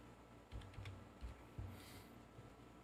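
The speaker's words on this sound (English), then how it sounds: "I'll just type it in." Light clicking of keys on a computer keyboard, a few quick taps in short bursts over a quiet background, faint and close.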